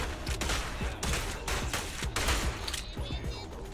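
Zhu Yuan's shotgun fires in a combat video game, a dense burst of rapid gunshots and impacts over layered game effects, loud and continuous.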